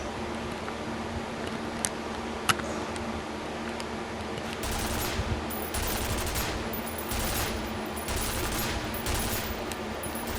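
An automated turret in F.E.A.R. fires in sustained rapid bursts that start midway through, loud and close over a steady background hum, with faint clicks beforehand.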